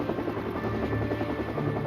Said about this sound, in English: They rigged a helicopter to carry more primitive electronic surveillance gear.